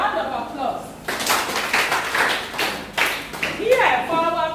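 Audience applause at a community drug-prevention symposium, a broad wash of clapping that starts abruptly about a second in and carries steadily to the end, with voices over it at the start and close.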